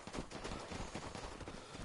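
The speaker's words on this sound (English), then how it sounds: "Cause I heard gunshots on..." Rapid bursts of gunfire crackle in the console shooter Escape from Tarkov, a string of sharp shots fired close together, fairly quiet overall.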